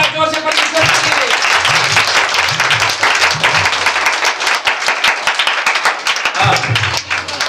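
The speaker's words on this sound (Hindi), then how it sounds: "ताली बजाओ जोर से परमेश्वर के लिए" A church congregation claps loudly and together, dense rapid hand claps filling the space in a sustained burst, with voices and low musical tones mixed underneath.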